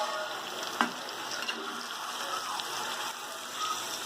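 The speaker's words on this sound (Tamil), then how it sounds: "நம்ம இப்போ தக்காளியும் சேர்த்து நல்லா பரட்டி விடுங்க." Tomatoes sizzle and fry in an oily pan for chicken biryani, a steady hiss with an occasional faint scrape of stirring, moderately close and with no talk.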